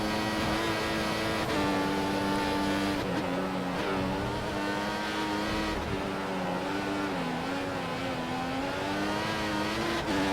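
An F1 race car from the F1 2014 video game at the Japanese Grand Prix, with a loud, steady, high-pitched engine wail that shifts pitch through gear changes and holds without pause, with no talking.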